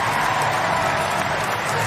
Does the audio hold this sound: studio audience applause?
yes